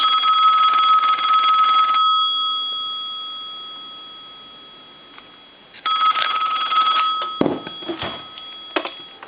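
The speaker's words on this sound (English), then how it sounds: "I'm going to let that ring a couple times" A Snoopy and Woodstock novelty telephone's bell rings loudly in two bursts separated by a pause, followed by a few clunks of the handset being handled.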